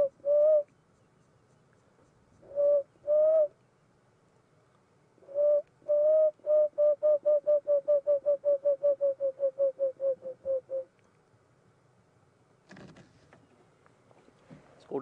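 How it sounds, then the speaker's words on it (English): An emerald spotted dove's soft, low cooing notes: a few spaced calls, then a long run of rapid, evenly repeated coos that trail off, with a faint rustle afterward. "Called an emerald spotted dove or a green spotted dove."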